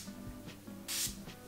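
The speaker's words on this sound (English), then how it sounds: "So I am just going in with my Urban Decay setting spray, and I'm just gonna spray it on" Urban Decay setting spray misted from a pump bottle in one short, close, sharp hissing burst, with faint handling sounds around it.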